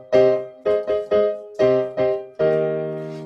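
A Clavinova digital piano plays a short phrase of repeated chords, about seven struck notes in an uneven rhythm, with the last chord held and ringing out. It is close and clear, with no voices over it.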